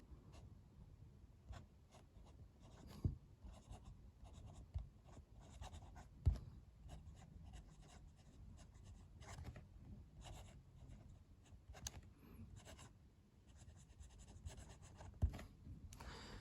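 A fountain pen with an architect nib scratches across paper in quick, quiet strokes and pauses, written left-handed; soft, close, faint rubbing with occasional small taps.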